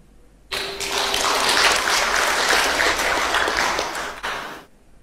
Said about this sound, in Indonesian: Jadi jangan tepuk tangan dulu Pak.